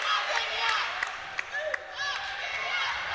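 An arena crowd at a women's netball match between Gibraltar and the Isle of Man cheers and claps in a continuous roar, with scattered sharp claps and whistles standing out.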